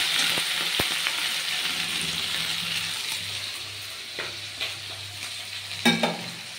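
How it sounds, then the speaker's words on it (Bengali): Ginger-garlic paste and spices sizzle in a pan, stirred steadily with a spoon that scrapes and taps now and then; a continuous close frying hiss with no talking. "আদা রসুনের পেস্টটা দিয়ে আবারও ভালোভাবে নেড়ে চেড়ে এটা মশলাটা আমি ভেজে নিচ্ছি।"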